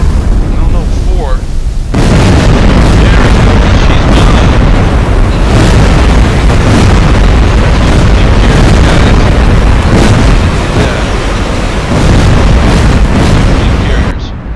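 Torpedo explosions striking ships in Silent Hunter 4 against a carrier task force: a sudden loud, sustained roar of blasts and rumbling that fills the clip after a quieter start, with voices speaking over it.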